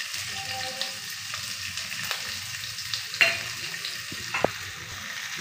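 Chopped onion and green chili with cumin seeds frying in oil, a soft steady crackle throughout with a few sharper clicks and clatters of a spoon against the pan.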